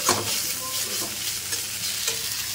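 Maggi noodles frying in oil with onion and chili are stirred briskly, with a close, continuous sizzle and scraping stir strokes.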